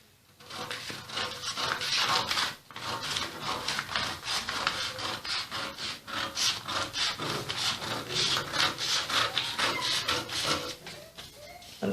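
Scissors cut through paper or fabric along a drafted off-shoulder bustier pattern, making a continuous close-up run of crisp snipping and rasping strokes in a quick, uneven rhythm.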